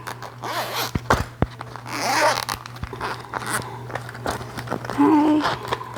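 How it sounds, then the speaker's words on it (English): A zipper on a Jewel Loom carrying case is pulled open in a few scratchy, uneven runs, close up, with handling rustle and a low steady hum underneath. "It's got a zipper here."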